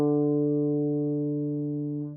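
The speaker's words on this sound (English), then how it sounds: "4th string, no fingers, D." An open D on the fourth guitar string rings out alone as a single clean sustained note, decaying slowly over about two seconds before being cut off.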